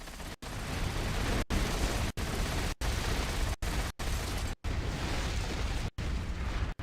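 Loud, dense explosions from torpedo rockets striking ships in World of Warcraft, a continuous roaring blast wash broken by brief sharp cutoffs, with no talking.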